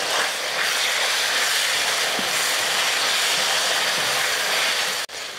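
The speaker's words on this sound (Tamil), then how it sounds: "2 தக்காளி, கொஞ்சமாக உப்பு, கொஞ்சம் மஞ்சள் தூள். இப்போ இதை வதக்கிடுவோம்." Radish sautéing in a pan with two tomatoes, a little salt and turmeric, heard as a loud, steady, broadband sizzling hiss that runs unbroken for about five seconds and then cuts off abruptly near the end, with no talking.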